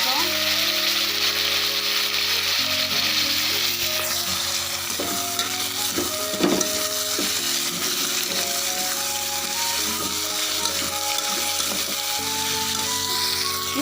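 Garlic, mango and brinjal frying in a pan, a steady close sizzle with occasional stirring scrapes, continuous throughout with faint background tones.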